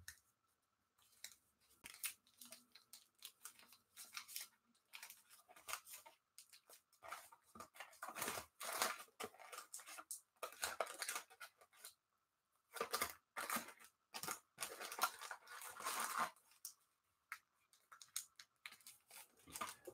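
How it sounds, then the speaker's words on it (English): Trading cards being shuffled make quiet bursts of crisp riffling and papery clicking, coming in uneven flurries with short pauses over about twenty seconds, with no talking. "We will do the old shuffle to make sure nothing is weird."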